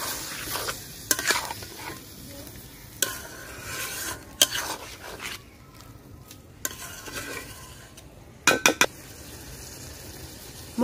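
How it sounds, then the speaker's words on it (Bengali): Moong dal frying with chicken in a pan is turned over and over, with irregular scraping and metallic clinks of the spatula above a faint steady sizzle, heard up close and without speech. "মুগ ডাল মাংসের সাথে দিয়ে একটু ভালোভাবে ভাজা করে নিচ্ছি।"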